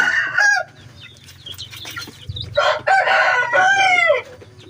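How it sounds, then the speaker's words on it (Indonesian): A month-old Jimmy White and Hongdam bloodline cross rooster crows in short, loud, strained bursts, with brief clucks between them, close to the listener. "Ini anakan Jimmy White Bloodline di mix Hongdam Bloodline ya."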